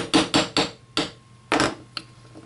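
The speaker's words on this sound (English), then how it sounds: "You can just center it over that hole on your bench block and just tap away." Hammer taps a roll pin out of a Kel-Tec RDB trigger assembly set over the hole of a bench block, giving sharp, close metallic strikes: three quick taps, then single taps spaced out, with no talking.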